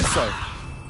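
A Levioso spell in Hogwarts Legacy on PS5, a quick whooshing flick with a bright shimmer at the start that fades out over about a second.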